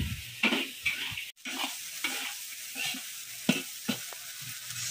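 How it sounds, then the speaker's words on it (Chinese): An aunt stir-fries dishes in a wok in a farmhouse kitchen, with a steady sizzle broken by scraping spatula strokes and occasional metallic clanks, close and moderately loud. "现在是我婶娘下厨炒菜"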